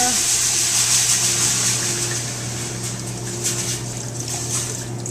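Sweet Riesling wine poured into a pot of cabbage for a German dinner, a steady liquid rush with soft splashing over a low electrical hum, continuous for several seconds.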